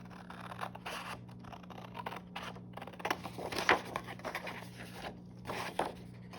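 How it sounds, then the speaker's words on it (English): Scissors cut out a paper grid for drawing, a close, quiet series of irregular snips and paper rustles with short pauses between cuts. "I don't need all this extra paper, so I can go ahead and cut this out."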